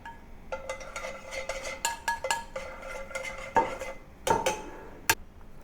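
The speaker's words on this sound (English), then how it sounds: "put the oil back to the pan after filtering and add the caramel into it" Utensil stirring caramel into filtered oil in a pan, with repeated metallic clinks and scrapes against the pan in an uneven rhythm and a few sharp ringing knocks, close and clear with no speech.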